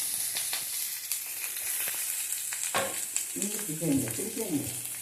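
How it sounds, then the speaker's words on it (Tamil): Chopped onion, curry leaves and dried red chilies frying in hot oil with cinnamon and cloves, a steady close sizzle with stirring scrapes and bursts of crackling that grow louder toward the end, no talk. "கருவேப்பிலை, காஞ்ச மிளகாயும் போட்டு வதக்கவும். வெங்காயத்தை கட் பண்ணி வைத்திருக்கிற வெங்காயத்தை போடவும்."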